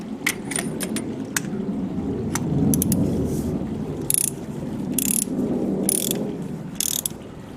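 A torque wrench ratchets while tightening a spark plug on a Toyota Avensis, with steady close ratcheting and several sharp metallic clicks spaced across the stretch.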